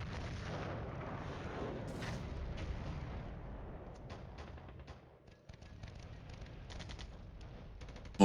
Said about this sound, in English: Artillery being directed onto that guy automatically.